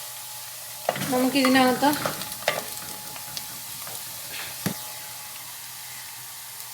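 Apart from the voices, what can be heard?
roasting jackfruit in a pan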